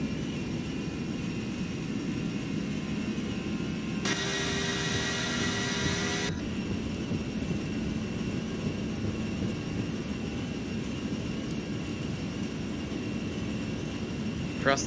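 Airbus A320 jet engines spooling up for takeoff in a flight simulator, a steady loud roar and hum that holds throughout, with a brief burst of bright broadband noise partway through.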